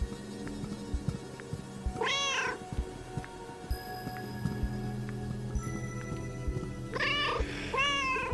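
A cartoonish cat meows twice in the Cute Cat video game, short wavering calls separated by a few seconds, over a steady game soundtrack with light clicks.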